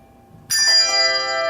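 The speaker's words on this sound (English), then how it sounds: "See, I played the wrong bell." A single handbell is struck in a bells class, a wrong note, an A, ringing out clearly with a bright attack and then sustaining and slowly fading with no voices over it.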